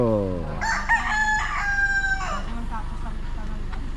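A gamefowl rooster belonging to a breeder crows once, long, loud and close, its drawn-out call rising then holding before trailing off into quiet farmyard background.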